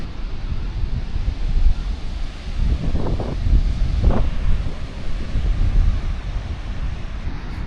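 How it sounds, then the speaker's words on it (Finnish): Steady wind buffets the microphone with low rumbling gusts throughout while walking in Puerto Rico, Gran Canaria, a couple of brief thumps in the middle, and no one speaking. "Täällä käy kyllä samoin tuuli"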